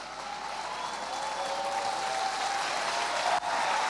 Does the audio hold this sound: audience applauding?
yes